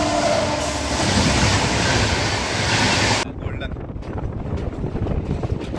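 A special passenger train running from Jaipur to Ratlam, heard as a loud continuous rush of rail rumble and wind noise that drops abruptly partway through to a quieter, steadier rolling sound.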